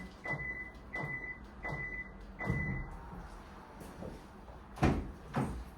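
A Kia Carnival minivan fitted with a power side step clicks through a run of four short beeps with mechanical thunks, followed by louder door thuds and latching sounds near by.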